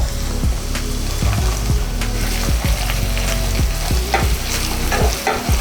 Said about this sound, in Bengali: আরেকবার আমরা এই গুঁড়ো মশলাগুলোকেও তেলের মধ্যে কষিয়ে নিই